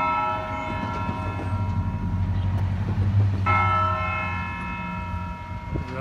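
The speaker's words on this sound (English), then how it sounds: "The bell tower is ringing at noon." A church bell tower rings at noon while a train rumbles through town, the bell's sustained tones swelling partway through over the rail noise.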